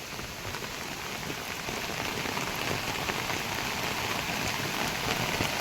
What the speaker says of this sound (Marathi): मोकार पाऊस झालेला आहे फक्त अर्धा घंट्याच्या पावसामध्ये एवढं पाणी बघायला मिळालं